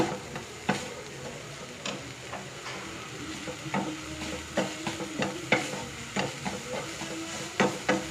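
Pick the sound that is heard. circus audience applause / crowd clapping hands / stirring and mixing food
stirring and mixing food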